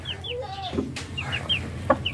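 Startled chicks cheep in a run of short, high chirps, several in quick succession, over a low steady background hum, with one sharper cluck near the end.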